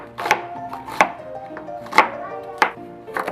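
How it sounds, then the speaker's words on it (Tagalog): An onion is chopped finely with a knife on a cutting board while arroz valenciana is being prepped. Five or six sharp, close knife strikes land at an uneven, unhurried pace with quiet gaps between them. "Ito, pinuhin natin ang ating sibuyas."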